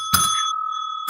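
A shop door bell rings twice, a bright sustained ding with a long ringing tail at the start and a second strike at the end, close and clear with no talk.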